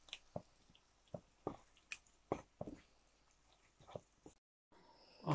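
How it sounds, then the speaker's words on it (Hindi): Tomato paste goes into a cooking pot for lentil rice, giving a scattering of soft, wet squishes and drips, each brief and quiet, before a short silence. "अब मैं इसमें 2 अदद टमाटर का पेस्ट डाल रहा हूँ।"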